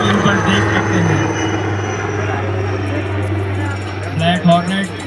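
A steady buzzing drone hums overhead at a constant pitch as a palm-sized Black Hornet nano surveillance drone flies in at an Army Day display, with a voice speaking over it throughout.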